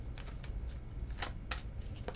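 Tarot cards being shuffled by hand, a run of quick papery riffles and soft slaps up close, with no voices.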